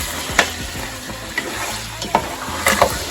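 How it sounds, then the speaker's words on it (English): Lamb meat frying in a pot while being stirred, a close sizzle broken by several distinct scraping and clanking spoon strokes against the pot, no speech. "our meat has fried very well here. Let's give it a stir."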